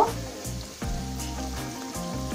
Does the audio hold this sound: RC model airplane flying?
no